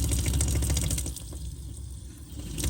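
A caravan water tap runs weakly while a faulty pump pressure switch clicks repeatedly, giving a rapid, irregular clatter over the sputtering flow.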